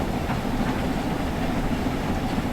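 A British Railways Fowler 4F steam locomotive pulls a passenger train on the Buxton branch near Peak Forest, a steady close rumble of rolling wheels and rail noise, continuous and even with no talk.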